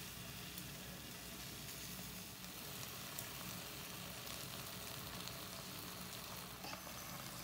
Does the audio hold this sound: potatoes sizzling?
yes